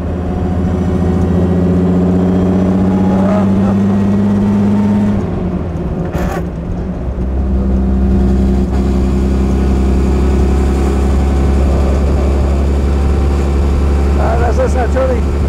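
A 1928 Mercedes SSK with a supercharged 7.1-litre engine runs loud and steady, its deep droning note shifting pitch midway as it rises and settles again, drowning out the surroundings.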